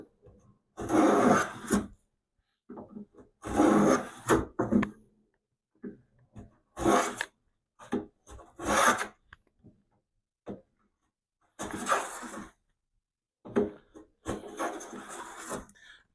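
A Stanley hand tool scraping a wooden chest carcass in repeated rasping strokes, close and dry, in bursts separated by short pauses, with no talk.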